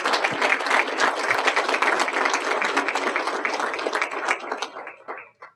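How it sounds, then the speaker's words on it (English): Applause from an audience at a Hearts & Hands 2020 appreciation event, dense and steady clapping that holds for several seconds before thinning out and stopping. "give a round of applause for"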